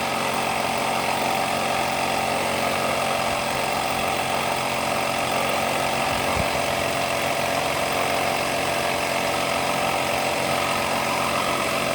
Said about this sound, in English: Since my compressor is so small, it takes a while to get back up to pressure.